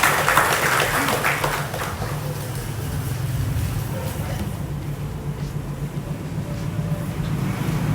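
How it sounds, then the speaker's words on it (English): An audience at a formal event on cybercrime prevention and data privacy applauds, the clapping strongest at the start and then settling into a steady patter with a low hum underneath. "A round of applause, please."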